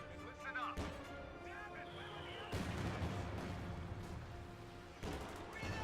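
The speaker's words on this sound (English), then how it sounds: "Katusha on the field, throwing a barrage into the center." Katyusha rocket barrage in Company of Heroes 2 on the Rails and Metal map, heard as a series of booming impacts and rushing salvos under steady battle noise, with a sharp onset midway and another near the end.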